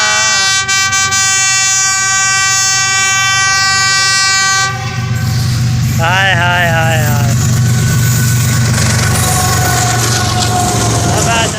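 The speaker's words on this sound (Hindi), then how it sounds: "ये देखिए रेलगाड़ी स्पीड में जा रही है।" A passenger train passing at speed, with a long sustained horn blast followed by a loud, close rumble of cars rolling by; a voice briefly exclaims over it.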